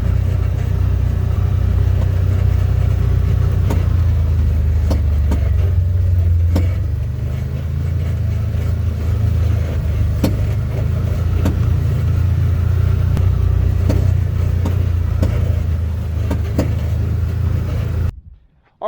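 A Can-Am Commander side-by-side driving over rough terrain, its engine a loud steady low rumble with occasional sharp knocks and rattles from the chassis, continuing throughout before cutting off abruptly at the end.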